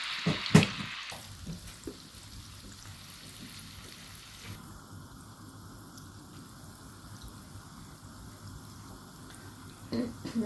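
Oil heating and beginning to sizzle in an iron pan for making andesh, a soft steady frying hiss with light clinks and stirring, close and fairly quiet throughout.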